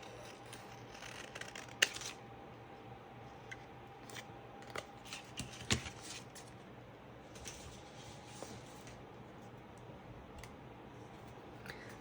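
Scissors snip through paper while cutting out a piece for a craft journal: quiet, close, irregular clicks and slicing strokes spread over several seconds against a faint steady background hum.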